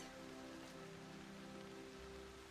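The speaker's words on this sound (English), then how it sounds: "Even on rainy days like today." Steady, dense rain patters across surfaces in Assassin's Creed Odyssey, filling the scene evenly from start to end with faint sustained tones humming beneath it.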